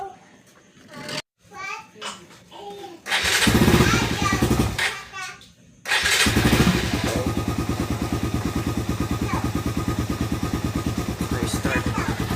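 Children chatter briefly before a small Suzuki Raider motorcycle engine sputters and catches, settling into a loud, steady rapid idle close by.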